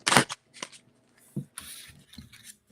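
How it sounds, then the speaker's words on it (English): Tarot cards shuffled by hand at close range, giving several short papery riffling bursts separated by brief pauses, with no talking. "I'm shuffling"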